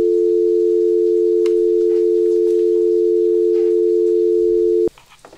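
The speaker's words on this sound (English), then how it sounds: "this is just note saying this is a North American dial tone" A steady, continuous North American telephone dial tone, generated with SoX, hums at an even level for about five seconds, then stops abruptly, leaving faint background noise.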